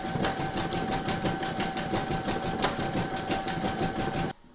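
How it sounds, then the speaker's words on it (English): An embroidery sewing machine stitches an in-the-hoop heart banner, a steady, rapid mechanical whirring and needle chatter that runs close and loud, then cuts off abruptly. "Load your contrasting bobbin and thread into your machine if you're using a contrast, and then stitch round number 11."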